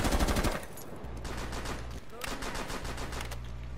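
Video game gunfire, bursts of rapid automatic shots in quick rhythmic volleys, with a loud opening burst, a brief lull, then further sustained firing.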